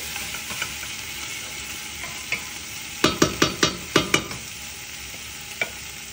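Goat meat caldereta stirred in a pot with a spoon, a quick cluster of five or six sharp scraping clacks in the middle, with a few lighter isolated knocks before and after over a low simmering hiss.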